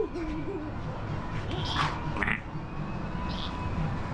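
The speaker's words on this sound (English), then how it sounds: "I found an owl now as well." An owl at Chessington zoo hoots a few times at moderate distance, with faint background noise and a brief voice.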